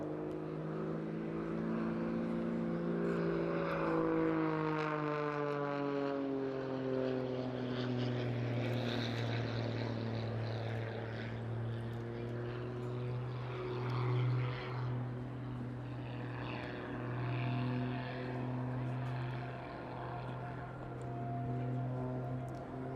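A highly modified aerobatic biplane performs at the Eastbourne International Airshow 2022, its propeller engine droning steadily for over twenty seconds. The buzzing tone sweeps and shifts in pitch as the aircraft manoeuvres at a moderate distance.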